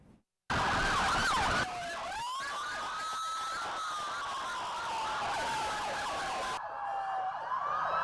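Ambulances and fire engines of Guatemala's volunteer fire brigade drive in a caravan through city streets for a 70th anniversary celebration. A loud, sweeping siren wails continuously, rising and falling, with other sirens layered beneath it.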